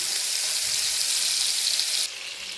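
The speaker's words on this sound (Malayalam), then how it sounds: "എണ്ണ ചൂടായത് നമ്മൾക്ക് ഈ ഫിഷ് എടുത്തിട്ട് അതിലിട്ട് കൊടുക്കാം കേട്ടോ" Fish dropped into hot coconut oil, giving a steady loud hissing sizzle that sharply drops in level about two seconds in and carries on more softly.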